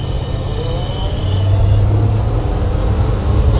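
A 1977 Ford F150 with a 351 Cleveland V8 runs with a steady low rumble, swelling slightly as it revs, heard from nearby with no talk.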